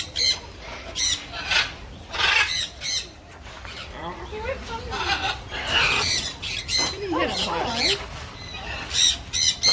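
Birds at the Flying High bird sanctuary squawking loudly and close by, a run of harsh, repeated calls in uneven bursts with short pauses between them.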